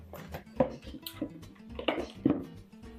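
Rubber spatula working beaten egg yolks into whipped egg whites in a bowl for a coconut cake, giving soft scraping and a few light knocks against the bowl, close and quiet with no talk.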